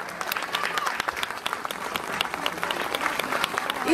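At a gala concert in Goris, the crowd applauds in a thick, crackling stream of many clapping hands that stays strong throughout and rises at the end. Faint voices mix in beneath it.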